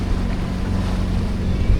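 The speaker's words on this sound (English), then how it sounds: "And some waves. Still motor sailing." A sailboat motor-sailing through waves at about six knots, heard as a loud, steady low engine drone mixed with rushing water and strong wind buffeting the microphone.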